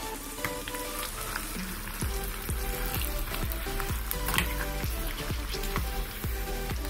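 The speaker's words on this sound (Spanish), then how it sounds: "Este chile japonés solamente lo vamos a echar y es rápido, casi nada más una doradita así rápida." Japanese chili peppers sizzle briefly in hot oil while birria sauce is being made, a steady frying crackle with regular low knocks, like stirring in the pan, nearby.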